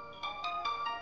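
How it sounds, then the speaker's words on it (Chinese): A mobile phone ringtone plays a short, quiet melodic phrase of evenly spaced tonal pulses, heard alone. "谁的手机在响？"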